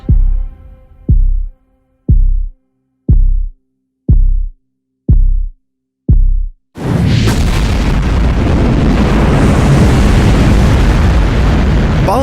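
Apollo 11 rocket launch: a series of seven evenly spaced deep, thudding booms, then a sudden, continuous, loud roaring rumble of engine ignition and liftoff.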